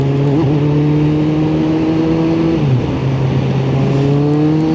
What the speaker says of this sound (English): I use a little bit of acceleration just to get ahead so he can see me.